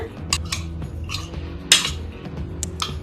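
Prawns being mixed with vinegar and salt in a bowl, with a few sharp, close metallic clinks and scrapes of a utensil against the bowl over a low background hum.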